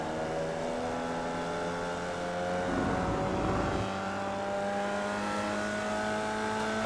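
A Formula Vee race car engine in the iRacing game drones steadily with strong harmonic tones, dipping briefly in pitch as the throttle lifts off and then climbing back as power returns, close and constant with no voice over it.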